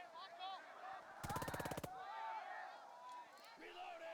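Rapid burst of automatic gunfire in the World War II tactics game Burden of Command, a tight rhythmic string of about a dozen shots lasting under a second, surrounded by quieter battle ambience and distant voices.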